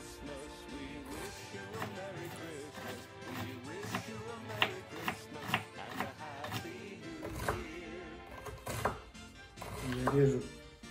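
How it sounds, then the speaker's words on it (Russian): An onion chopped finely with a knife in a home kitchen, heard as a quick run of crisp, close blade-on-board taps in uneven bursts, with a brief pause partway through. "Я режу"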